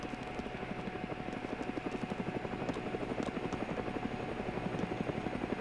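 A helicopter in the DayZ Epoch video game flies with a loud, steady rapid rotor chop and engine drone, continuous and close throughout.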